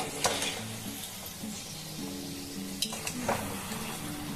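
Oil is poured onto a layered paratha in a hot pan, with a steady close sizzle and frying crackle, a few stirring scrapes, and a short louder burst near the end.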